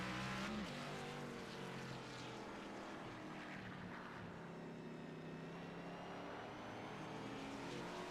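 Xfinity Series stock cars race at Hickory, heard from an onboard view off the tail of one car: a loud, sustained engine drone with shifting pitch as the packed field runs close together.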